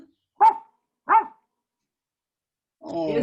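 A dog gives two short, sharp barks a moment apart, followed by a voice starting to talk.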